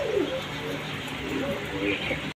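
Fancy pigeons coo at a farm loft, with soft, low, rolling calls repeating close by over a steady background hum.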